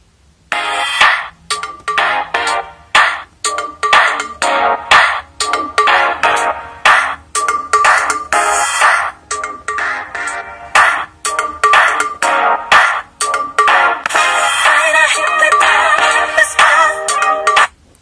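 Music plays through the single small loudspeaker of an Axon Mini phone, tinny, bright and thin with little bass, steady and fairly loud throughout.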